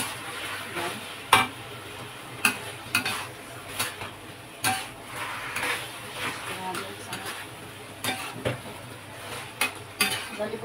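Sweet and sour pork chop ingredients stirred in a pan, scraping and clinking of a utensil against metal with light sizzle underneath, repeated knocks every second or so, close, with some speech.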